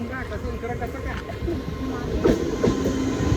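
A train rumbles past nearby with a steady rolling clatter, while people talk over the noise.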